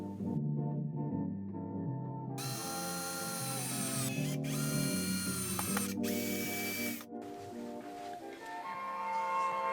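A power drill bores holes to join wall art panels, with several whirring bursts of rising and falling pitch at close range separated by short pauses.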